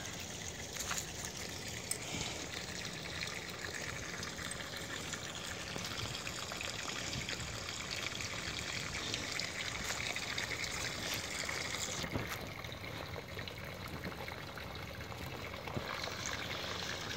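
Water trickles and splashes steadily in a backyard water garden, a continuous close babbling flow with no voices over it.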